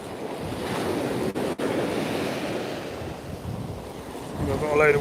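Strong wind buffets the microphone over steady breaking surf on Walcott Beach during night sea fishing, a loud continuous roar with brief dropouts and no talking.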